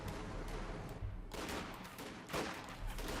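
Half-track .50 cal machine gun and cannon fire in the video game Company of Heroes 2, a dense, steady barrage of rapid shots with louder bursts at intervals, no talk.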